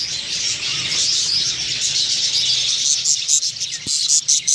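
A female budgie sitting on her eggs in a nest box gives a continuous run of high, bright chirps and twittering, close and fairly loud, with one short thump near the end.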